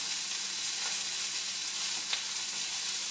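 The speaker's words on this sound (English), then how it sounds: "we're just placing a few more potatoes into the skillet" Potatoes frying in a buttered skillet give a steady, close hiss of sizzling, with a couple of faint pops and clicks rising above it.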